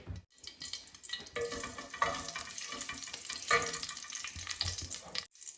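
Bay leaves and fenugreek seeds frying in hot oil for a Sylheti iftar dish, a soft steady sizzle with crackling pops, faint and close.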